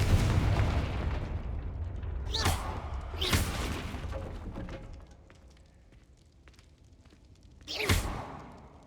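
Confringo fire spell blasts in the video game Hogwarts Legacy: booming explosive bursts with whooshing tails, two close together early and another near the end, over a rumbling game soundscape.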